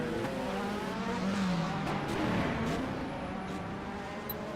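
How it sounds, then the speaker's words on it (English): A Panoz race car engine at Zhuhai circuit droning steadily with a tonal whine, heard over a noisy, hissy track with faint tire scrubbing and shifting pitch as it holds speed. "It sounds like the Panos engine already has tinnitus."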